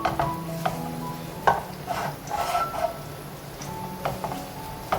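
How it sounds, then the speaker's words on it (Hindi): Onions frying in a pan give a soft sizzle with clinks and scrapes of a utensil stirring them now and then, close and moderately quiet, with no one talking. "ये लीजिए प्याज हमने इसमें डाल दिया है और अब प्याज हल्का हल्का सा पकना शुरू हो चुका है"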